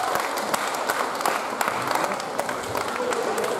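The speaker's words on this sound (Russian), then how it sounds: "вот они, самые классные слова, ваши аплодисменты" Audience applause at a tattoo festival, a steady wash of many hands clapping with a crowd murmur, loud and sustained throughout.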